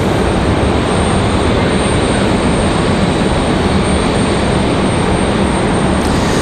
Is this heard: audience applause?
no